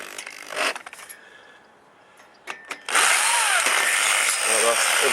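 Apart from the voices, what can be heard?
drill slowly boring through metal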